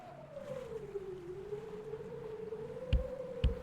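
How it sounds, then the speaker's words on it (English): An ambulance siren sounds in a bridge-building video game, a steady wavering tone that dips and rises slowly, moderately faint, with two brief thumps near the end. "So an ambulance has to cross."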